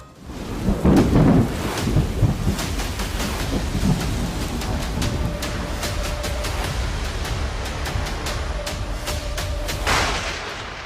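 Heavy monsoon rain pours steadily in Gujarat's Saurashtra region while thunder rumbles and cracks, with a loud clap at the start and sharper bursts later on.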